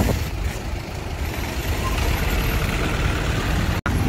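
A heavy Mitsubishi Fuso truck rumbling along a congested road, its loud broadband engine and road roar steady and close for several seconds, then cutting out abruptly at the end.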